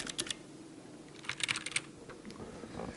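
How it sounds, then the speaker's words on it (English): Mechanical keyboard with clicky blue switches typing, sharp keystrokes in a few quick bursts, close up, over a low background hum. "the blue switch is the most popular because you also get the clicky sound"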